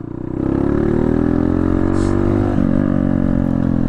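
Honda CRF110 motorcycle engine fitted with an aftermarket Big Bore exhaust, revving up from idle into a steady, loud, close buzzing drone with a brief dip and recovery near the end.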